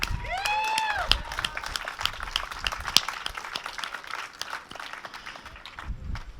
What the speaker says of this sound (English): Could you clap it for young people?